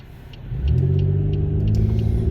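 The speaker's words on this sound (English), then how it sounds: "Talk about traffic here this morning." Morning road traffic with cars passing, a steady low engine rumble that swells as a vehicle accelerates, continuous and fairly loud with no one talking.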